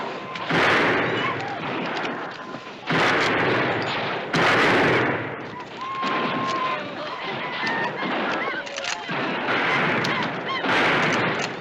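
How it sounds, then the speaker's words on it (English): Repeated gunfire from an old western battle scene, loud bursts of shots arriving in several waves with brief lulls between them, while shouting voices come through under the shooting. "You're supposed to fire this gun, not hide behind it."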